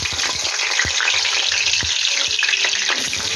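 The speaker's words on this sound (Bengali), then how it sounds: "তো আলুটা ভেজে ফিরছি।" Potatoes frying in mustard oil for echor chingri, a dense close sizzle with occasional clinks of a spatula against the pan and no talking.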